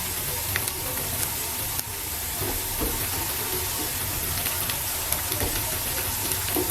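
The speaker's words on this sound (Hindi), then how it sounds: "मैंने थोड़ा सा प्याज, जो एक प्याज लिया है उसको बहुत बारीक बारीक काट लिया है। काट के अब इसको थोड़ा सा सोते करेंगे।" Finely chopped onion sautés in a pan, a steady close hiss and sizzle with occasional crackles and small pops throughout, no voices over it.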